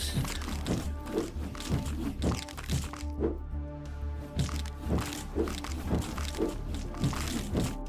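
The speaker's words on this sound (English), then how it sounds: "sound is amazing." Repeated crunching impacts from combat in the action roguelike Death Must Die, a steady rhythm of thick thunks and crackles about twice a second over a constant game music bed.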